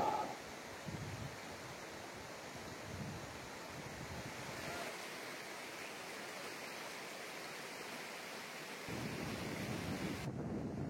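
Jaldhaka river flowing near the Bhutan border in the Dooars, a steady broadband rush of water close by with wind noise, no voices, louder near the start and again toward the end.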